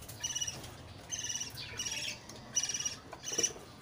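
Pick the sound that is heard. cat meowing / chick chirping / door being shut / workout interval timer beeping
chick chirping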